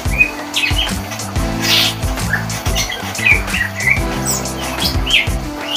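A golden bulbul sings a varied series of bright chirps and warbling phrases, close and clear, with short gaps between notes and no talking.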